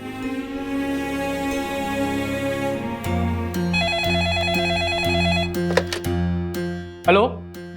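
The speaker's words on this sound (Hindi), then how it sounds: "फोन क्यों नहीं उठा रहे हैं?" A telephone rings in an indoor drama scene, its electronic tone repeating in steady pulses over background music, fairly close and clear.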